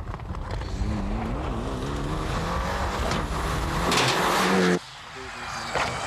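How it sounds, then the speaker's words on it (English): A Mitsubishi Lancer Evolution IV Group N rally car on a stage of the 1999 Manx International Rally, its engine note rising and shifting loudly for several seconds before cutting off abruptly to quieter background noise. "Ryan Champion is in a Mitsubishi Evolution 4."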